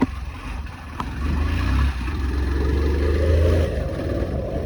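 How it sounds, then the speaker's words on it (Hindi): A motorcycle engine pulls steadily in second gear on a rough road, its low drone rising in pitch as it climbs, loud and close, with wind and clatter. "अभी समझ दूसरे गियर में चढ़ाएंगे, देखेंगे ज़रा चढ़ेगी या नहीं।"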